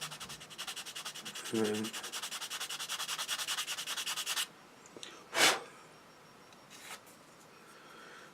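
Steady scraping strokes of sanding as a plastic Tamiya SU76 model kit part is bevelled, fairly close and continuous for about four seconds, then a pause with a brief louder rub and a faint later stroke; a short spoken phrase drops in early.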